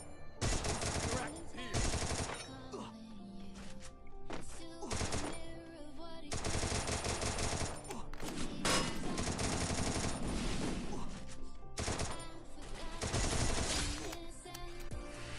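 Rapid gunfire from Free Fire as a player mows down bots, dense bursts of automatic shots in clusters throughout with brief gaps, loud and continuous.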